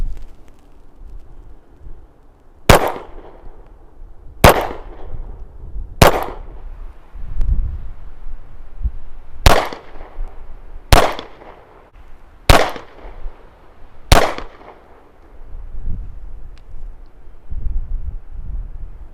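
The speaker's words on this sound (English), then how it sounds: "Nice shooting pistol." An FN 509 CC Edge 9mm pistol fires eight sharp, loud shots outdoors at irregular intervals of one to three seconds, with light wind noise between them.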